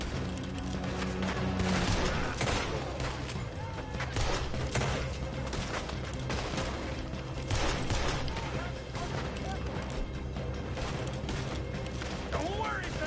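Shootout gunfire in Red Dead Redemption 2, dense and continuous volleys of shots and impacts throughout, loud and close, mixed with game sound and music.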